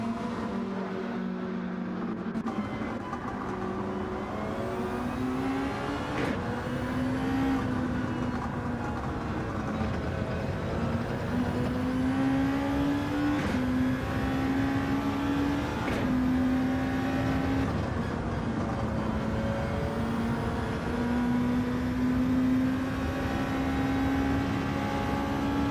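A race car engine in an endurance championship race screams at high revs and climbs repeatedly through the gears, with sharp drops at each upshift, loud and continuous throughout with no talk.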